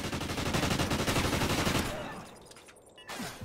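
PP-Bizon submachine gun fire in a first-person shooter, a dense, loud stream of rapid automatic shots for about two seconds that then breaks off into quieter, scattered game sounds.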